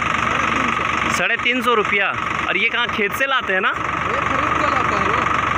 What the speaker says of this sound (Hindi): ये कैसे ट्रैक्टर चलता है इधर